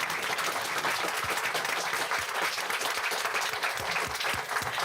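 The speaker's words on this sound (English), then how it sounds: "Can we give our employees a round of applause?" Audience applause at a school board meeting honoring retiring employees, a steady roomful of clapping sustained throughout at moderate distance.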